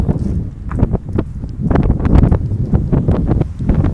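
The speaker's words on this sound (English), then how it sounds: "the wind's picking up on this side" Gusty wind roars over a mountain trail on Hong Kong's Peak on the windward side after Typhoon Hato, a loud, continuous buffeting broken by scattered rustles and footstep-like thumps.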